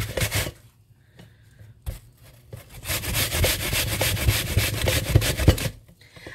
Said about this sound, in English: we're going to grate this apple into the bowl with the melted butter